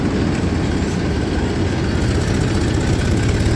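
A tractor engine runs steadily while hauling sugarcane, a continuous loud low rumble with dense broadband noise throughout, no talk over it.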